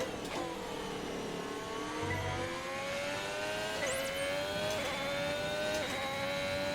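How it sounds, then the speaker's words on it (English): A high-revving race car engine in the F1 2021 video game, a Lamborghini with a Ferrari engine, screams steadily, its pitch climbing through gear changes with a brief low thump early on. "this Lamborghini screams with the Ferrari engine"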